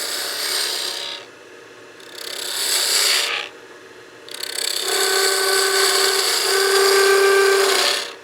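Spindle gouge radiusing the end of a wooden handle turning on a lathe, close rasping cuts in three bursts separated by short pauses, the last one longer with a rising whine that suggests slight chatter.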